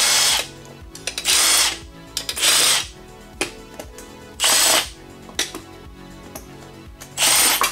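A power tool running in reverse removes engine bolts, with repeated short whirring bursts and clicks in an irregular rhythm, loud and close in a workshop, no voices.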